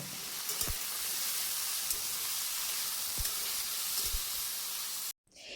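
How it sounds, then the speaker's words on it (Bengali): Potatoes dropped into hot oil after a spice tempering give a steady, even sizzle with a few soft clinks of a utensil against the pan, continuing until an abrupt cutoff near the end. "ফোড়নের থেকে সুন্দর একটা গন্ধ বেরিয়েছে, তাই এখন আমি এর মধ্যে আলুগুলোকে ছেড়ে দিচ্ছি।"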